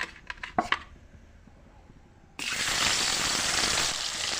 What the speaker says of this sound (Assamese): মাছখিনি টাইম ভাজি লওঁ বৰা কৰি।